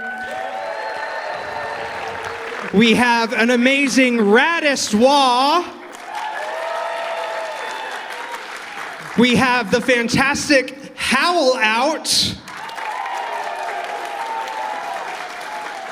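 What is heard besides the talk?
audience applause for convention guests of honor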